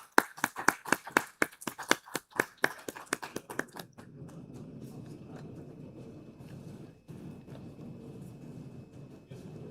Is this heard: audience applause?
yes